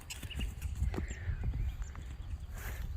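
A horse moves around a round pen during Monty Roberts-style groundwork training, its hooves thudding softly and irregularly on the ground amid low outdoor rumble.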